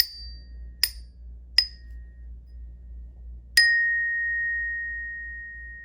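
Three bright metallic orchestra bell tones struck with a mallet one after another, then a fourth strike that keeps ringing and slowly fades, clear and close in a quiet room.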